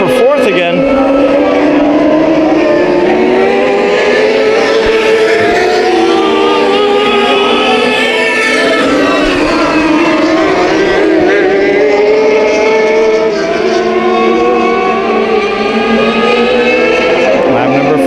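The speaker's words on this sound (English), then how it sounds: "Listen to this car. It's like an RC car." Several race cars in a heat race at Bakersfield Speedway, one engine screaming very high-pitched like a radio-controlled car, loud and continuous with rising and falling revs as cars pass, under a commentator's talk.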